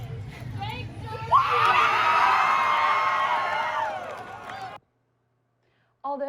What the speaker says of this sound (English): the exuberance expressed by the crowd when his name was announced was practically unmatched